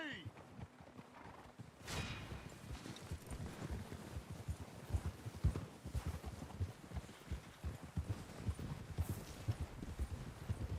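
Horses in the video game Red Dead Redemption 2 clip-clop at a steady trot, hooves pattering close by amid outdoor ambience, with occasional voices and a brief whinny.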